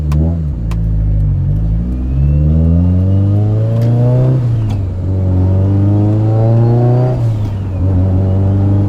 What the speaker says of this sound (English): decided to take the Evo 8 for a rip this morning